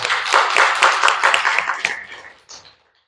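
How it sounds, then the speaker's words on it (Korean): A church congregation claps together during a Sunday morning service, a burst of brisk, loud applause that thins out and stops after about two and a half seconds. "우리 윤슬이 응원하는 또 하나님께 감사하는 마음으로 우리 박수 한번 보내줍시다"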